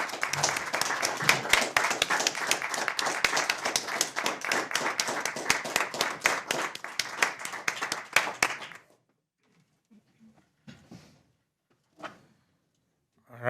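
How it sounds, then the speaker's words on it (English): Applause from attendees at a Boulder City Council special meeting, a burst of many hands clapping for about nine seconds that then stops abruptly, followed by faint room noise and a couple of soft knocks. "he didn't give us time to applaud his speech, and so can we go back and give him his due applause?"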